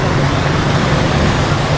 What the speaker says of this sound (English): This is the Dau Bus Terminal here.